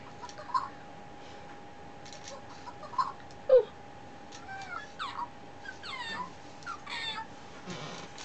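A Fingerlings toy monkey gives small squeaky electronic chirps and meow-like cat sounds, several short calls spread across the stretch against a faint steady hum.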